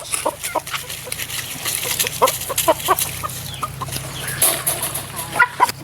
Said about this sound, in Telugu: అలాగే పుంజు కూడా మీకు చూపిస్తాను